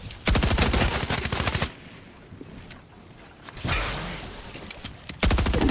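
Rapid automatic gunfire in an arena match of a console shooter game, loud bursts of repeated shots opening and closing the moment, with a quieter gap of softer game noise between them.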